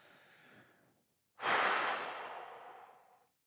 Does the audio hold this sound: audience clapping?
no